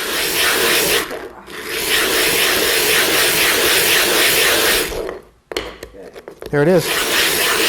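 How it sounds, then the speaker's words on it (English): A sharpening stone from an Edge Pro Apex knife sharpening system being ground flat, giving a loud continuous raspy rubbing that breaks briefly, resumes, then stops before a short spoken remark. "So I'll just keep grinding until it goes all one color"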